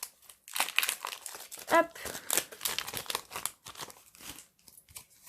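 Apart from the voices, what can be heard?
opening a Pokémon card booster pack wrapper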